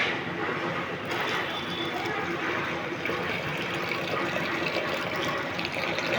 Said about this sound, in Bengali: এখন আমি দুধটি যে গরম করে রেখেছি ওই দুধগুলো দিয়ে দিব।